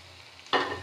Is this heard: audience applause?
no